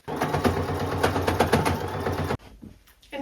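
A sewing machine straight-stitches the armpit fold of a top, giving a close, rapid rhythmic chatter for a couple of seconds before cutting off abruptly, with a short restart at the end.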